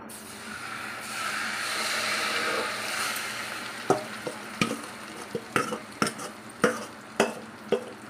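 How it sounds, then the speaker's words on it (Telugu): Marinated chicken goes into melted butter in a pan, raising a rushing sizzle that settles, followed by a series of sharp scraping knocks as the pieces are turned. "ఇప్పుడు మనం మ్యారినేట్ చేసి పెట్టుకున్న చికెన్ని దీంట్లో వేసేసుకుందాం."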